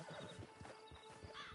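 A horse in Red Dead Redemption 2 Online whinnies while hooves clip-clop in an uneven rhythm, all fairly quiet and close, with no voices.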